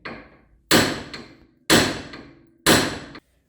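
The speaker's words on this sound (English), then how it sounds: "with my hammer, I'm going to shock it through this end part of our steering arm and shock that loose" Three loud, sharp metallic hammer blows strike the steering arm of a VW T25 to shock the track rod end loose, evenly spaced about a second apart, each ringing briefly before decaying.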